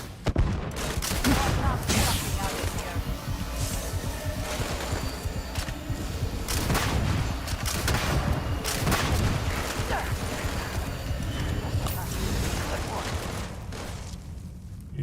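Gunfire in the Starfield video game, played in survival mode, with dense, continuous bursts of shots and booms running throughout under a steady game soundscape, while a player talks now and then.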